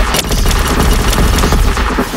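A barrage of light ability attack in a video game bursts out as a dense, loud volley of rapid explosive impacts and crackling blasts, sustained without pause through the whole moment.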